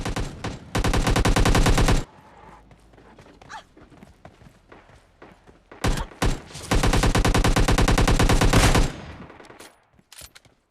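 Two long bursts of rapid automatic gunfire in PUBG Mobile Lite, loud and close, separated by quieter scattered shots and faint background noise.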